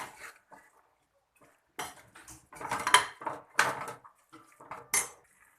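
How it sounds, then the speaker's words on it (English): Spoon clattering and scraping against a pot while pulao ingredients are mixed, irregular bursts of metallic knocks, close and moderately loud, with quiet pauses between strokes. "After adding everything, mix it well."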